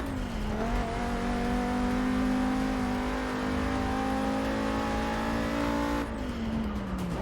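A race car engine in Forza 6 drones at high steady revs throughout, with a smooth pitch that dips briefly at the start and end as the car shifts or brakes mid-race.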